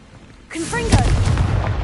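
A Confringo spell in Hogwarts Legacy goes off as a loud, booming fiery burst right after a brief spoken voice, with the blast rumbling on to the end.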